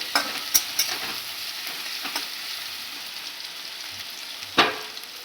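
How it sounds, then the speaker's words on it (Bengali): Onions sizzle steadily in a frying pan while being stirred, with a few sharp scraping clicks from the spoon over the continuous hiss, close and moderately loud with no talking. "একটু নেড়ে দিলাম, লাল লাল হবে।"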